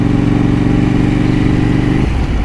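A KTM 790 Duke motorcycle engine drones loudly and steadily up close, then its pitch drops near the end as the rider shifts down a gear.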